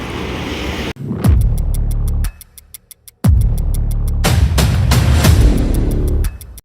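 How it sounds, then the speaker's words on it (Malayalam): Firecrackers burst outdoors during a festival ritual in Hyderabad, three loud sharp bangs with rumbling tails separated by brief pauses, against a backdrop of rapid regular clicking. "പടക്കം പൊട്ടിച്ചടാ അപ്പൊ ഒക്കെ പാറിപ്പോയി"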